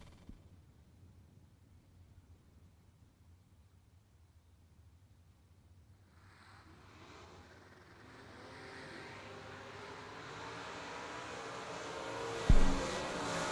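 Chevy Camaro and Corvette drag race cars are faint and distant at first, then their engine roar builds into a broad, rising rush that grows louder toward the end, with a sharp knock near the finish.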